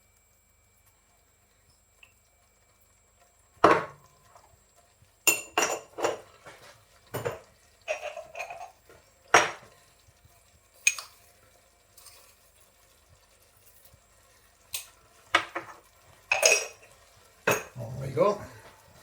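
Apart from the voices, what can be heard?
stirring chimichanga filling in a pan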